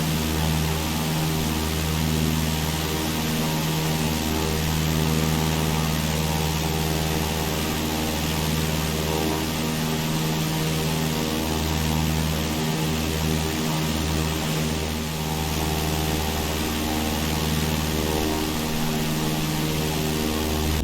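Aircraft engine during takeoff in Microsoft Flight Simulator, a loud, steady propeller drone with a constant tone that continues without a break.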